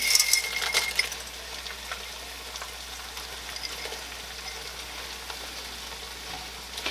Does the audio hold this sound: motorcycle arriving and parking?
no